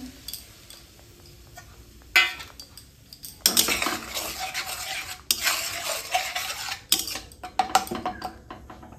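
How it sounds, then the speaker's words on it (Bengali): Onion paste and tomato paste with spices being stirred and fried in a pan for chicken, with steady scraping of a spoon against metal and soft sizzling in bursts, close and alone. "পেঁয়াজ বাটা টমেটো বাটা এগুলোকে এই মশলাটাকে ভালোভাবে কষাতে হবে।"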